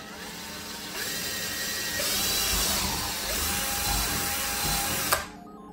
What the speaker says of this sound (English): I'm going to drill my first hole